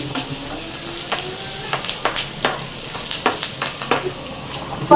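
Fried rice with onion and chilli sizzling and frying in a hot pan, with a steady hiss and a series of scraping stirs at irregular intervals.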